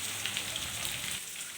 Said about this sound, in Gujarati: તો મસ્ત વરસાદ વરસે બરોબર